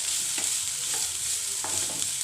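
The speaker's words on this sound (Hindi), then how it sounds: "हमें इसको 1 मिनट तक बस इसी तरह से थोड़ा सा इसके अंदर फ्राई कर लेना है" Chopped onion for cabbage paratha frying in a pan, a dense steady sizzle with a few soft spoon scrapes as it is stirred, close and alone without voices.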